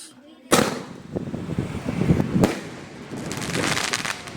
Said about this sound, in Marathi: मी पण एक लावला आणि बघा ह्याचा आवाज.